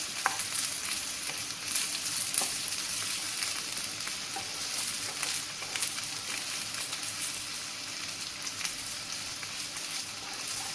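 Rice roasting in a pot for pilaf gives a steady close sizzle and crackle, stirred continuously with soft scraping, with no voices throughout.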